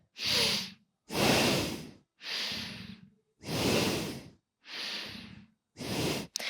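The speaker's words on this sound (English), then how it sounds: "I call it belly isolated breathing, or also navel point breathing." A person demonstrates belly isolated breathing, also called navel point breathing: six deep, close breaths alternating inhales and exhales, each a forceful airy rush of about a second separated by short silences.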